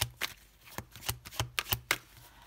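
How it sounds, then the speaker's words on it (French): Tarot cards from the Forêt Magique and Histoire de Sorcière decks are laid out on a table, five in all, with a quick series of close, crisp slaps and flicks in an irregular rhythm and no voices. "Allez, on va poser les 5 cartes"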